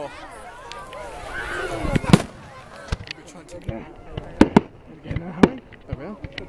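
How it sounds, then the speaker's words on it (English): Bonfire Night fireworks crack and bang outdoors in a ragged series of sharp, loud explosions over a crackling backdrop, while people nearby talk and cheer. "fireworks, baby"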